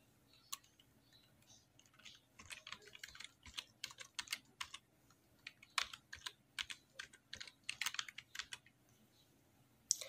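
Computer keyboard typing as a password is entered on an account registration page, with irregular bursts of crisp key clicks, some fast runs and short pauses, fairly close and alone with no talk.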